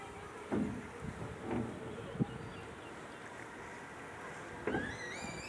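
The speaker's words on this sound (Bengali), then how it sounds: "এই যে ভয়ঙ্কর তিস্তা নদীতে নৌকা রাইডিং শুরু হয়ে গেল দেখুন ভরপুর পানি" A boat setting out on the Teesta river near the barrage in monsoon high water, with steady wind and water noise, a few soft knocks and splashes, and a faint high whistle near the end. No one speaks.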